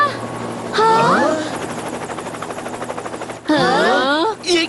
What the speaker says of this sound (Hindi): वो हेलीकॉप्टर।